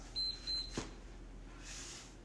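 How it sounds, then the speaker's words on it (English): Two short high electronic timer beeps sound close together, followed by a soft click, in an otherwise quiet room. "You might hear a beep. That's just me trying to keep track of the time"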